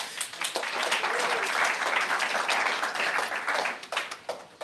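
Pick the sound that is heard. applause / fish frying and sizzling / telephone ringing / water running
applause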